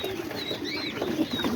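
Homing pigeons coo softly while feeding, with chickens nearby. Low murmuring coos and a few faint higher chirps are heard over a steady, noisy outdoor background, and no one speaks.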